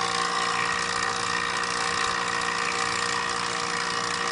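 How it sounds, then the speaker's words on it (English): A Yellow Jacket SuperVac 6 CFM vacuum pump runs on an air-conditioning system after a pinhole leak repair, giving a loud, steady mechanical drone with a buzzing ratchet-like texture, close and unbroken throughout. "now we are running the Yellow Jacket Super Vac 6 CFMs on her"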